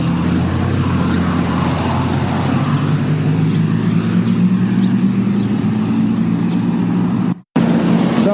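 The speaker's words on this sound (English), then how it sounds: "There'll be a lot of traffic noise to cut out." Road traffic rumbles steadily nearby, a continuous low engine drone of passing cars and heavier vehicles heard outdoors at a roadside show with a skateboarding dog, cutting out abruptly for a moment near the end.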